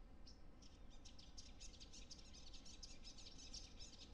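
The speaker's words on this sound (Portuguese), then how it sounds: "E só tem som de pássaro." Faint, steady birdsong ambience from the survival video game Your Journey of Survival, with repeated high chirps over a soft low background hum.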